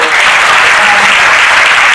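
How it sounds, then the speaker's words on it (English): Sustained applause from a discussion panel audience fills the room, a dense, steady wash of many hands clapping together, loud and continuous throughout with no pause. "please just give a round of applause to"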